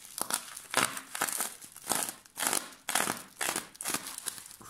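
Plastic packaging for Xiaomi Earbuds Bluetooth earphones crinkles and crackles in repeated bursts as the box is opened, close and fairly loud, with short pauses between handling.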